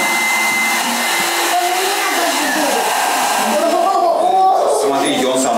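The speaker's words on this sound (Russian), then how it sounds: "Мы берем фен, включаем его на подогрев воздуха, направляем его в банку." An electric hair dryer set to hot air blows into a glass jar during a science demonstration, a steady broadband whoosh running loud and continuous throughout, with faint background chatter from an indoor crowd.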